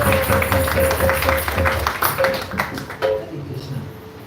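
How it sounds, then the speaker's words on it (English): An audience claps for a speaker at a Namahatta gathering in South Africa, a dense round of applause that is loud at first and then thins out and fades, with a faint tone and some background sound. "So let's give him another round of applause."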